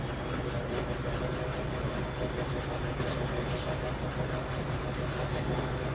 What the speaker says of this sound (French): le wagon s'accroche... Enfin, pas le wagon, la loco s'est accrochée dessus